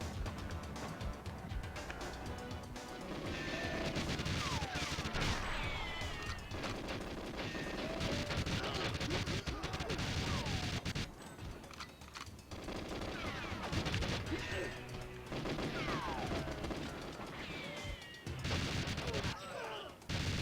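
Gunfire from a gun in the GoldenEye video game, rapid sustained shots that rattle on almost continuously with a couple of short breaks, dense and loud throughout.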